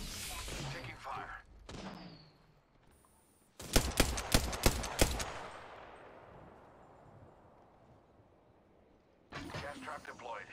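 Apex Legends gunfire: a loud burst of about six rapid shots around the middle, followed by fading noise, with game voice lines and chatter before and after.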